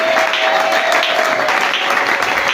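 A church congregation at a Sunday service claps and cheers, a dense, loud wash of applause filling the short moment with crowd noise.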